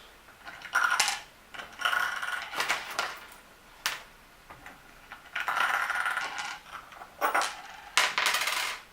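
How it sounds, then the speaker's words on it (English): Metal washers clink and rattle as they are set onto bolts while a CNC router kit is assembled, a series of small bright metallic taps and jingles close by. "We're going to put 4 washers on these bolts"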